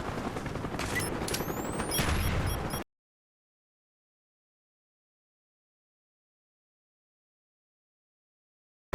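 An MP5K submachine gun fires in Call of Duty Black Ops, a dense rapid burst with whizzing sounds lasting under three seconds before the sound cuts to silence.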